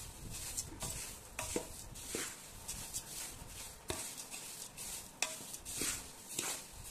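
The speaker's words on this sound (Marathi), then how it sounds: "हे आता अशा प्रकारे सगळं मिसळून घ्यायचं" Thin poha and roasted puffed rice being mixed for chivda in a pan: repeated scraping and rustling strokes at a steady rhythm, close and moderately quiet.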